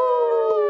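A person imitates a wolf howl with a single short, loud sustained tone that glides slightly downward, close to the mic.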